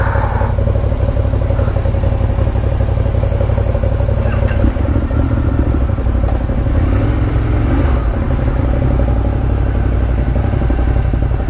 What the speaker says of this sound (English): Wag's bike is loud